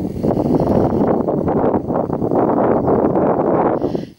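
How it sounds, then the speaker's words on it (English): Wind buffets the microphone in continuous rough gusts on a coastal wetland walk at Pawlett, a loud low rumble that barely lets up. "It's quite windy again."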